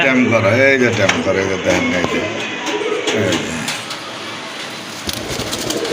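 Two tame lutino cockatiels call with bright, chattering whistles among other caged birds and pigeon coos at a bird market, with people talking throughout.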